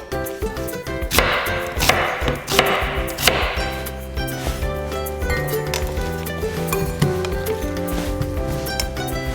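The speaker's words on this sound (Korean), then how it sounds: "자, 제가 양파를 한번 썰어 보겠습니다. 양파는 채썰어 줍니다." A knife chops steadily through an onion on a cutting board, slicing it into thin strips with rapid, regular close knocks during outdoor camp cooking, loud and with no voices.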